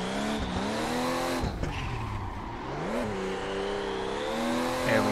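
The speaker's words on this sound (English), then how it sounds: "I love the backfires and the pops out of this car" Car engine revs rise and fall in the video game Assetto Corsa during drifting in Japan, with a sharp crackling exhaust backfire pop near the middle and another near the end, loud and continuous.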